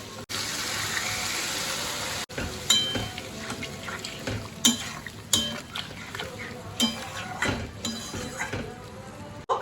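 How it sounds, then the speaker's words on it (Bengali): Goat meat curry cooks with ginger, garlic and tomato in a pan: a steady sizzle runs underneath while a utensil scrapes and clinks against the pot in irregular stirring strokes. "খাসির মাংসের মেয়েটা আর সেটা এখন স্পেশালভাবে রান্না হচ্ছে আদা রসুন টমেটো দিয়ে"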